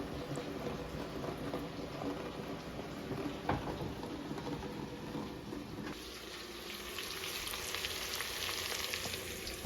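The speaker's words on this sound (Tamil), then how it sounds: "ஓகே, ஆனியன் நல்லா வதங்கிட்டுருக்கு." Onions sauté in a pan for a plain egg biryani, giving a continuous mid-level sizzle with occasional stirring, no talking.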